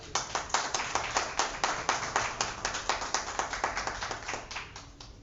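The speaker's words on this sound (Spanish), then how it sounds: "Un aplauso para él, por favor" Audience applause at a book presentation, a crisp, rhythmic run of fairly sparse claps that fades slightly toward the end, with no voices.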